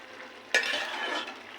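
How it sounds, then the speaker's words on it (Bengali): A pot of curry with potatoes bubbles and sizzles close by, a sudden burst of hissing simmer that holds steady, with no talk. "ঝোলটা ফুটে উঠেছে"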